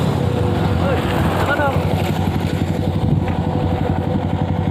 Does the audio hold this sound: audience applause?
no